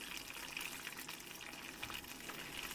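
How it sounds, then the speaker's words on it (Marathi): Grated coconut sizzling as it roasts in hot oil in a pan: a soft, steady, even crackle and hiss at low volume with no breaks and no voices. "आता आपल्याला सगळ्यात पहिलं खोबरं भाजून घ्यायचं आहे म्हणजे तळून घ्यायचं"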